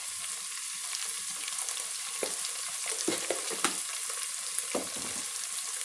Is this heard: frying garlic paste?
yes